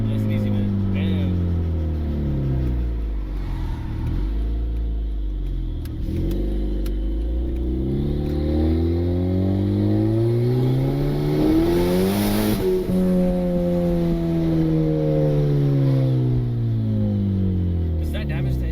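Turbocharged Honda Civic R18 with an eBay turbo kit, revved hard while driving, engine pitch climbing and dropping through gear changes over a long stretch, loud from inside the cabin while occupants talk.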